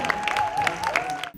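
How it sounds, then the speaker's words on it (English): Audience applause for performers at a cultural evening, a brief burst of dense clapping under a steady tone, cutting off abruptly near the end. "Let's give them another round of applause."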